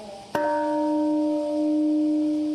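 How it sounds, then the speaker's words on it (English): A single bell strikes once at a Hiroshima bombing anniversary commemoration, a sharp clang followed by a long, clear, sustained ring that slowly fades. "A bell to mark the moment that killed thousands"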